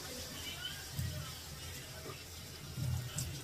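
Water poured from a bowl onto dalia in a cooking pot, a soft liquid splash and trickle in two short bursts against low background noise.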